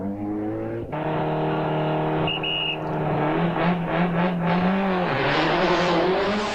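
A Mitsubishi Galant VR4 Group A rally car races on tarmac, its engine climbing hard through the revs with a brief gear change and a drop in pitch, then rising again as it passes loudly.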